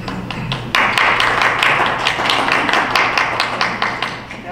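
Audience clapping at a school board meeting, starting with a few hands and then swelling into steady, rhythmic applause from a roomful of people that tapers slightly toward the end.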